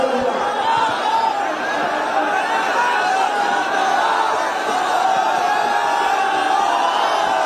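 A large crowd at a Samajwadi Party political rally in Bangarmau for Akhilesh Yadav keeps up a steady, dense wash of applause and cheering, loud and unbroken throughout.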